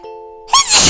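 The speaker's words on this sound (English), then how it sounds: "And I sneezed with my nose." A single sharp, breathy sneeze bursts out loud and close after a quiet sustained tone, short and forceful.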